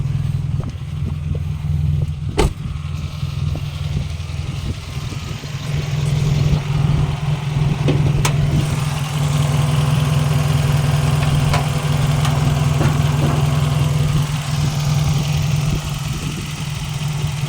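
A 2005 Toyota Vios E automatic with its original factory engine idles steadily, heard close up in the engine bay as a continuous low hum with a few faint clicks and no talking.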